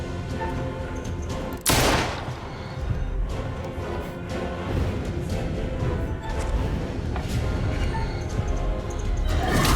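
Gunfire rattles through a battle in the horror video game Little Hope, with a sharp, loud blast near the start, then dense sustained shooting and crashing effects that continue without a break.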